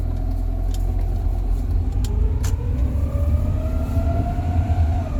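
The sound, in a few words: Rover 45 CVT car engine revving erratically while driving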